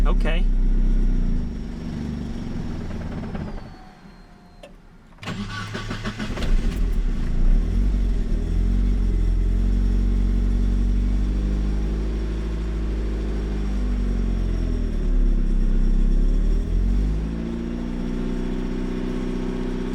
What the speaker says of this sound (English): let's see if this thing will actually start